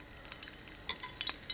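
Garlic fries in a pan with soft scattered crackles and pops, fairly quiet, with a few sharper sizzling spikes and no speech.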